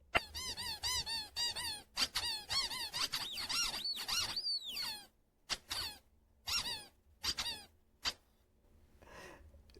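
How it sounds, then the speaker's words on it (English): High-pitched squeaking in rapid chirping bursts, dense and wavering at first, then breaking into shorter separated squeaks with gaps of silence, fairly faint and with no voices. "So the name of this sound is squeak"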